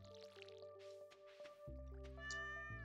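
A cat meows in a farming video game, a short cry amid dripping, squishy water effects and bright game tones, with no talk over it.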